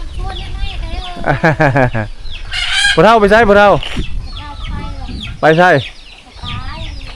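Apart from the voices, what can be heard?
chickens clucking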